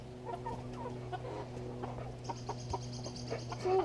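Backyard chickens cluck and murmur close by in a desert food garden, with soft scattered noises and a faint steady hum underneath, and a brief higher tone near the end.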